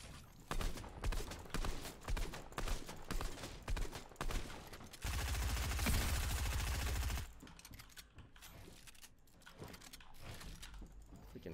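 Rapid bursts of gunfire in the video game Fortnite, dense crackling volleys in irregular clusters with a sustained heavy stretch midway, loud and close, with game sounds and no talk.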